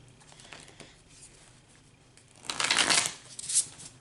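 Tarot cards are shuffled on a bed, with a quiet start and then a burst of crisp riffling and flapping up close, ending in a final snap of cards.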